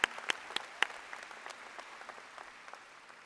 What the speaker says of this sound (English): can we give a round of applause real quick to all our parents here?